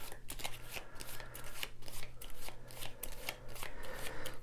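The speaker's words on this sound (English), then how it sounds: "you shuffle these cards" A deck of board game cards is shuffled by hand, producing rapid papery riffles and flutters in a quick, uneven rhythm. The sound is close and fairly soft, with no talking.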